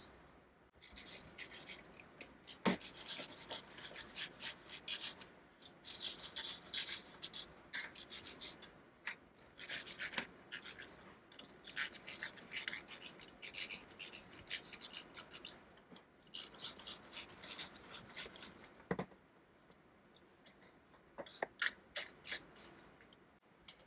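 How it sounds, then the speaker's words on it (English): Clamps on a light bar mount for a Polaris RZR are tightened with a tool, giving quiet close ratcheting clicks and scraping in irregular bursts with short pauses. "then we'll tighten the clamps"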